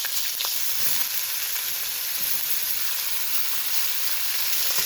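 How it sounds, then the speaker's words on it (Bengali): Snake gourd frying in white oil in a wok gives a steady, loud, even sizzle throughout, a continuous hiss without pauses or voices. "ওই কড়াই সামান্য একটু সাদা তেল আবারও দিয়ে দিয়েছি এবার সবজিটা ভেজে নেব"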